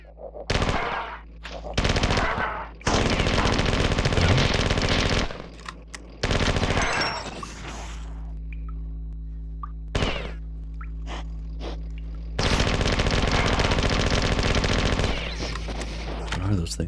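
Rapid automatic gunfire from a weapon in the video game Marathon 2: Durandal, loud sustained bursts separated by short pauses and single shots, with a low constant game hum underneath.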